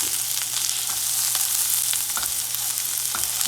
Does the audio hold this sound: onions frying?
yes